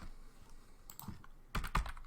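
A Linux rmdir command is typed on a computer keyboard: a couple of soft taps, then a brisk run of several close, crisp key clicks with sharper strokes toward the end.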